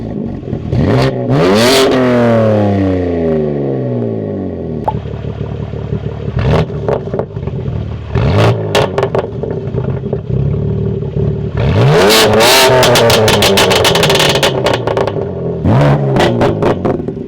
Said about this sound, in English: Let's start off with valves closed, no sport mode, nothing, no burbles or anything.